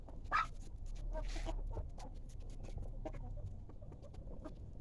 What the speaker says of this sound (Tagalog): Ayan yung isang inahin natin.